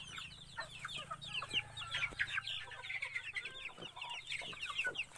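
A brooding native hen clucks in a Philippine backyard amid other chickens, with busy, overlapping clucks and calls at close to middle distance and no speech.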